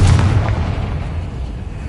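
A Confringo fire spell bursts in the Hogwarts Legacy video game, a loud, deep boom that peaks at once and then rumbles away over about two seconds, with no voices.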